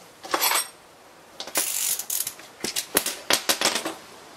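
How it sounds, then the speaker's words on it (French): A ratchet with a 12 mm socket tightens nuts on a rear shock absorber of a 1999 Toyota Corolla, making close, clicking bursts of rapid pawl ticks in several separate strokes. "il faut que je les serre avec à l'aide d'une douille de 12"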